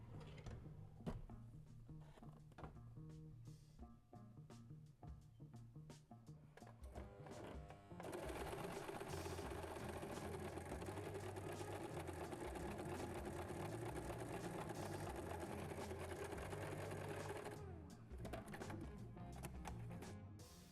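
A sewing machine stitching a seam on a halter top, running as a steady, loud mechanical whir for about ten seconds in the middle, with quieter handling sounds before and after.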